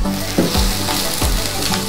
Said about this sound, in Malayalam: ചെറിയ ഉള്ളി ഒന്ന് നന്നായി സോട്ട് ചെയ്ത് വരണം.